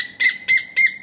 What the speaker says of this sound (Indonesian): Anda boleh menikmati pemandangan dan suara-suara burung yang pelik-pelik macam ni